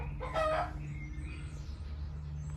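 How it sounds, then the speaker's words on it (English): A single chicken gives a short burst of clucking near the start, then only a steady low hum with no further calls. "down here we have the chickens"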